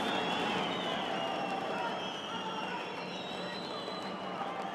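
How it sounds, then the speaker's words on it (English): A boxing arena crowd at a world championship bout cheering and roaring in a dense, continuous wash of noise, steady and moderately distant for several seconds, with no single voice standing out. "Crowd going wild here."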